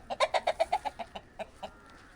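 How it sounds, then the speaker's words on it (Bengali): A big rooster clucks near the camera in a village yard, giving a quick run of about a dozen sharp, evenly spaced clucks that slow and fade. "এই দেখুন মোরগ একটা বড় মোরগ"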